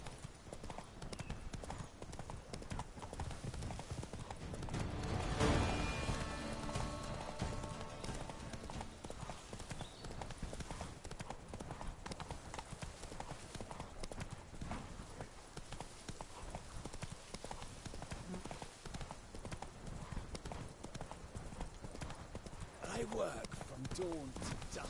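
A horse in the video game The Witcher 3 trots along, its hooves clip-clopping in a quick steady rhythm throughout, with game ambience underneath and a spoken voice over it at times.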